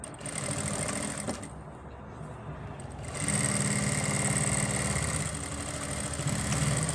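A sewing machine stitches ladies' pants in a boutique, a continuous mechanical hum and rattle that steadies and grows slightly louder after a brief softer stretch, running alone without talk.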